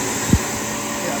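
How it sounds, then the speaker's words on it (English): A Dyson Ball Animal 3 upright vacuum cleaner runs with a steady, loud, close whooshing drone, broken once by a brief low thump. "I'm going over what I already vacuumed"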